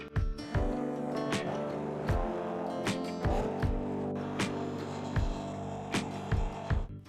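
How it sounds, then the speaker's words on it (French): Homemade aloe vera and chamomile shampoo with soap pieces being blended, a motor whirring in bursts with sharp repeated knocks and rattles roughly every second, close and fairly loud. "c'est mixer jusqu'à ce que tous ces petits morceaux de savon, si possible, disparaissent"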